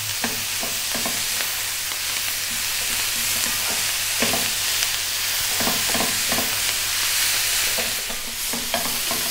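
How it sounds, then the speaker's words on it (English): Kale fries in a pan as it is stirred constantly, a dense, even sizzle broken by repeated soft scraping and shuffling of the greens, close and continuous, without voices. "Now we're going to grab the kale and get that in. And stir in all the time."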